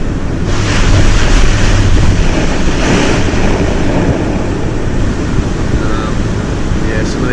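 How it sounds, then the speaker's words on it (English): Strong tropical cyclone wind gusts buffeting a house, a loud continuous roar with surging swells and low rumbling, heard close throughout. "some of these gusts, it's like a truck hitting the house"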